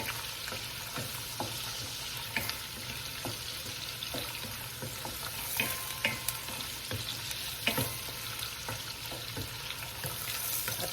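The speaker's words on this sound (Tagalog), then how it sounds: "kung gigisa-gisa na rin po ang ating bawang para po magkasabay-sabay." Garlic sautéing in a pan for pancit habhab, a dense steady sizzle with frequent stirring scrapes and clicks, close and continuous, with no talking.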